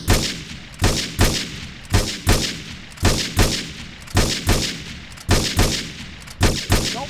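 Two handguns fire together in GTA San Andreas, loud sharp bursts of paired shots arriving in a steady pulsing rhythm, roughly two volleys per second with echoing tails across a rooftop.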